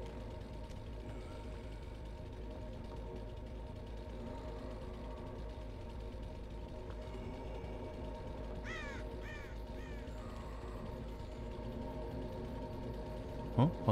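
Crow cawing in the horror game Dead by Daylight, a few quick harsh caws rising briefly above a steady low game drone, with brief vocal sounds near the end.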